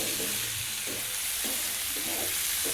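Poha seasoning with salt and a little sugar fries and sizzles in a pan under a steady broadband hiss, with soft scraping stir strokes recurring every half second or so.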